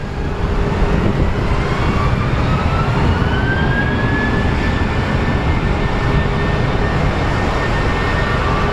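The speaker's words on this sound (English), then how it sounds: "we have another wide body. It's a cargo DHL 767." A DHL cargo Boeing 767 wide-body jet at Phoenix Sky Harbor International Airport, a loud continuous engine roar with a slowly rising whine, steady throughout and filling the background.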